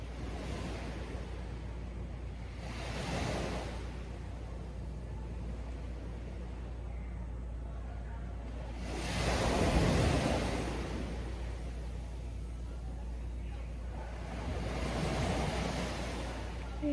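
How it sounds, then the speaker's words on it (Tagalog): Strong ocean surf on a beach in Batangas, with three large waves rolling in and crashing at intervals over a constant low rumble of sea and wind noise, heard at moderate volume with no talk. "Lakas ng alon"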